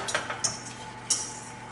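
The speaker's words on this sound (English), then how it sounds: "And then I'm just gonna whisk all of that together." A whisk works cornstarch, salt and water together in a bowl, giving a few quick scraping, clinking strokes with bright metallic ticks against the bowl, close and brief.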